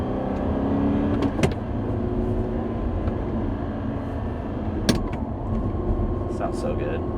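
Steady, loud idle of a 2014 Audi R8 V8 with gated manual, a continuous low rumble filling the whole stretch with a couple of sharp clicks or blips; a person talks over it.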